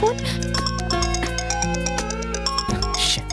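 A melodic phone ringtone plays a repeating electronic tune, loud and close, with Hindi-dubbed film dialogue talking over it.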